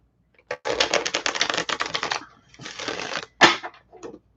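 Tarot cards being shuffled in rapid riffling bursts during a general reading, close and fairly loud, with a long run, a pause, a shorter run and a sharp snap near the end.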